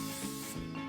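Cooking spray hisses steadily from a can into a 9-by-3-inch cake pan lined with parchment paper, one continuous close, soft spray lasting about a second.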